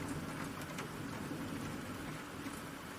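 Steady rain falls as a soft, even hiss with faint scattered drops, an unbroken wash of sound behind a children's bedtime story about an animal running through a muddy downpour.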